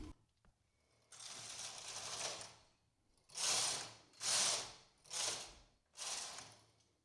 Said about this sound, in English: And knit 4 more rows.